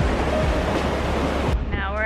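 Ocean surf breaks on a beach in Bali, a loud steady wash of waves with wind buffeting the microphone, and the roar cuts off abruptly near the end.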